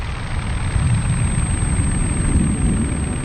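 A Fokker triplane's engine drones steadily in flight with the throttle reduced, a continuous loud, low rumbling hum with no break.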